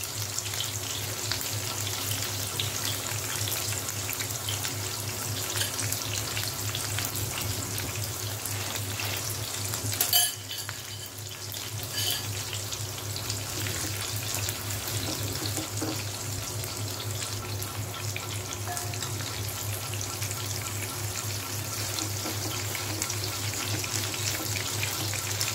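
A bell pepper starter mixture fries in a pan over a low flame, a long, even, close sizzle with a brief disturbance near the middle, over a constant low hum and with no talking.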